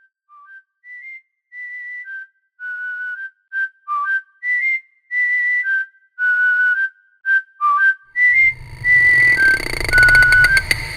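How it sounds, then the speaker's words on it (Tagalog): A person whistles a slow, wavering old tune in short separate phrases, clear and close, joined near the end by a low rumbling hum. "parang may sumisipol ng lumang kanta"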